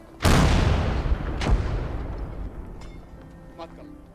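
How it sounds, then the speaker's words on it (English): Artillery fire in a World War II Finland video game, one heavy boom with a long rolling decay, then a second blast and fainter distant pops, loud and close. "How do you beat this artillery?"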